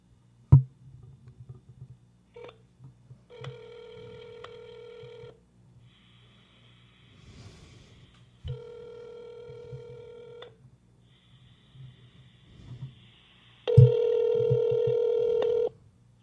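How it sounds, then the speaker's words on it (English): Phone line tones for an outgoing call: a short dial beep, then repeated steady ringback tones, each lasting about two seconds with pauses between, the last one louder, over faint breathing. "We're going to do the surprise phone interview."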